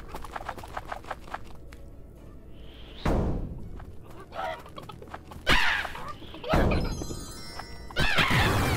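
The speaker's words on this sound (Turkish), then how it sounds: "Tavukları burada yollayın." Chickens clucking in the video game Witch It, a few short squawking bursts and rustles close by with crashing game effects in between, no talk.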